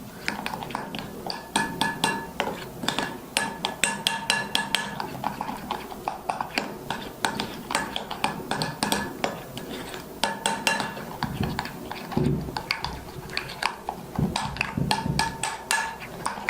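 Three ingredients are worked together into a thick paste in a bowl, with a spoon clinking and knocking against the sides in a quick, fairly regular rhythm that pauses briefly and then resumes.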